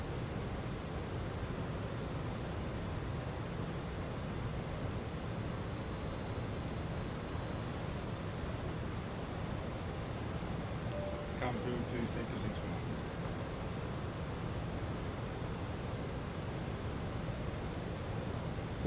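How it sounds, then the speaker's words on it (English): A airliner-style engine drones in Microsoft Flight Simulator 2020 during a landing attempt, a steady broadband roar with a faint constant whine held evenly for the whole stretch, a brief tonal blip near the middle. "I'm trying to land a plane."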